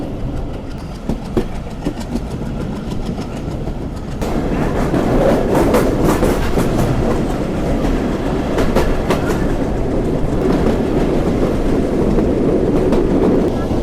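A local commuter train from Rajshahi to Rahanpur, led by a 65-series locomotive, rolls along with a loud, continuous rumble and rhythmic clickety-clack of wheels on rail joints, heard from onboard, swelling louder after a few seconds.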